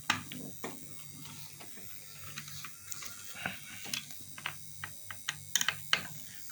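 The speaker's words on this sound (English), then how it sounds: "Remove these screws," Screws are removed from a microwave's electronic touch screen panel, a run of small metallic clicks and ratcheting ticks from a close screwdriver, irregular and getting busier toward the end, with no talking.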